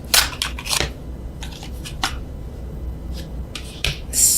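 Tarot cards overhand shuffled by hand, with several quick papery rubbing and riffling bursts spread irregularly over a few seconds, close and fairly loud.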